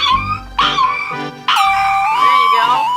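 A dog howls in drawn-out, wavering notes, loud and close, breaking into two long rising cries with short whimpering yips between them.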